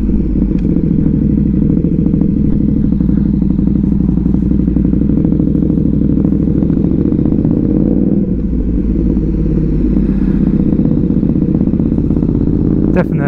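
KTM 1290 Super Duke R motorcycle fitted with a Rottweiler intake, a loud steady engine drone while riding, with continuous low rumble and some clatter throughout.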